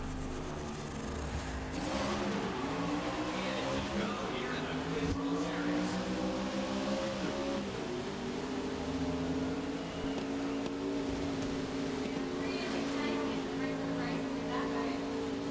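Race car engine in the Grid racing video game drones steadily, its pitch rising and sliding through gear changes as the car accelerates, with a speaking voice heard faintly over it at times.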